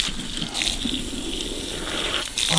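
Water gushes steadily from an outdoor tap, a continuous broadband rush that stays loud and close throughout with slight surges near the start and end.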